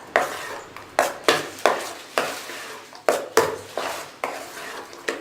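Mango dosa batter stirred in a bowl with a spoon: about ten repeated scraping strokes at a steady rhythm, close and clear with no talking.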